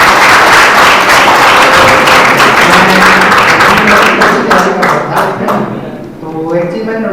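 An audience at a college conference breaks into dense, loud applause, many hands clapping together without pause before the sound thins out into a few scattered claps near the end, with voices heard among them.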